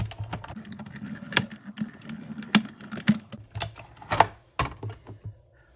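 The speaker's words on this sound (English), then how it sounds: "Just going to run this through our Stampin' Cut and Emboss machine." A Stampin' Up! Cut and Emboss machine runs a heart die from the Endless Love set, giving a close series of irregular clicks and ratcheting knocks with brief pauses between them.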